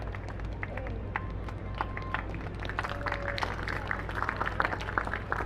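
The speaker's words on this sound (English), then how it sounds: "Keep that applause going." Outdoor crowd clapping at a contest during the Llandudno Victorian Extravaganza in North Wales, a steady patter of many hands, moderately loud and continuous, with a voice briefly audible.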